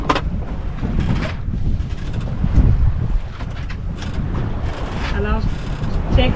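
Steady wind buffets the microphone aboard a small sailboat being sailed solo, a rushing gusty roar with water sloshing underneath, while someone talks over it.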